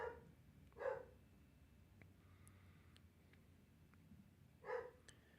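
A dog barks in short bursts, three distinct yelps spaced a few seconds apart, slightly distant and fairly faint, against a low background hum with occasional small clicks.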